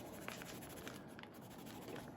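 A colored pencil scratches lightly over paper while colouring in a travel journal, with soft repeated strokes that are quiet and close.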